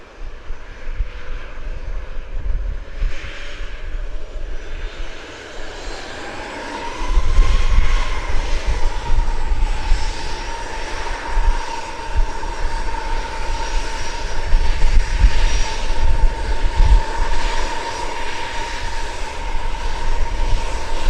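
JetBlue airliner jet engines roar near runway 7, a broad sustained rumble that swells louder midway and holds with a steady whining tone, heard outdoors at close range without talk.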